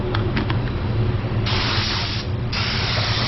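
A spray gun lays down a coat of matte paint in close, loud hissing bursts, with a short break before the spray starts again, and a few light mechanical clicks at the start.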